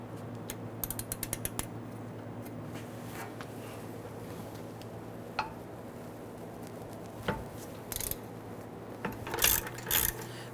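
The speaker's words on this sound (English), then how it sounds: "we're going to use our ratchet on that" Ratchet working a caliper bracket bolt on a 2011-2017 Nissan Quest during rear wheel bearing and hub replacement: a quick run of close clicks, then scattered clunks and metallic knocks against a steady background hum.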